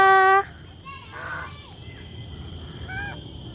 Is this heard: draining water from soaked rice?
no